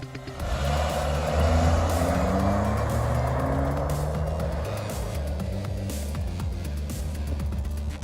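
A 2018 Honda CR-V AWD SUV engine revs hard and climbs through rising tones as it launches with eco mode off, staying loud and close, with tire noise underneath.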